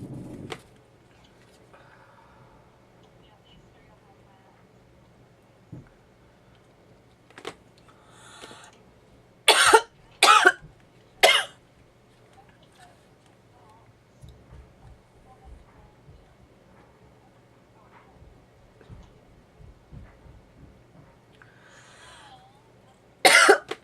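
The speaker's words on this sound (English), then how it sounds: "I have a terrible cough." Several sharp coughs from one person in a quiet room during a paper craft session, a close cluster of three loud bursts midway and another at the end, with faint handling noises between.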